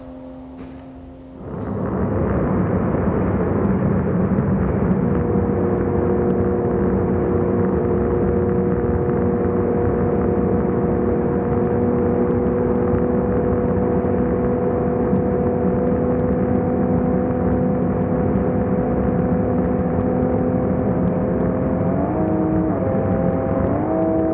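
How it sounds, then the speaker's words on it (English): A Toyota GR Supra at sustained maximum speed during a top-speed test: a loud, steady engine and road drone with tonal whine, holding constant for over twenty seconds with a slight pitch shift near the end. "watching the first Supra maximum speed test."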